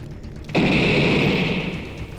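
A loud explosion in a video game bursts in abruptly and then rumbles and crackles on as a sustained roar that slowly fades, with no one speaking over it.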